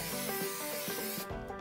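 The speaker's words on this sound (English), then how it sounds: "I use 3M77, and I spray the pattern on the back" A steady hiss of 3M 77 spray adhesive from an aerosol can onto the back of a paper pattern, close by, lasting just over a second before cutting off abruptly.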